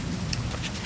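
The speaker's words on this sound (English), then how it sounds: "we are getting some rain in this swamp" Rain falling in a swamp, a steady, dense hiss of drops with no pauses, close and even throughout the short stretch, with no voices.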